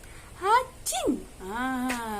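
A child-like voice imitates a sneeze twice in a classroom lesson, each one a sharp rising-then-falling vocal burst, with a sustained voiced tone between and after them.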